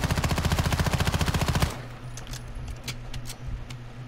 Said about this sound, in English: Alright, we're going to shoot it right now